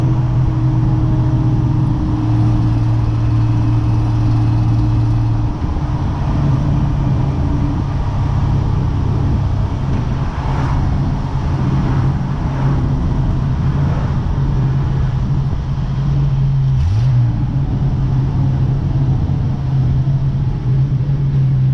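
A 1984 Toyota Land Cruiser converted from a fire truck cruises at highway speed, its engine droning loud and steady from inside the cab under heavy road and wind rumble, with no talking.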